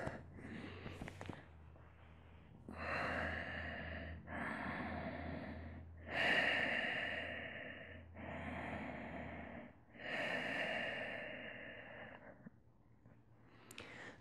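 Slow, deep breaths during shavasana rest at the end of a backbend yoga flow, close and quiet. Each long inhale and exhale rises and fades in a steady rhythm, with no talking.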